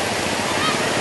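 Waves washing in with a broad, continuous roar of rushing water and wind noise, loud and close for a brief moment, with no talk over it.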